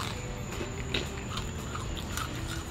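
Biting and chewing crunchy deep-fried chicken, close soft crunches and mouth sounds over a faint steady background hiss, with no talking.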